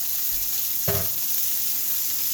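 Shrimp sizzle steadily in a hot pan for shrimp scampi, a loud continuous frying hiss with one brief clunk partway through.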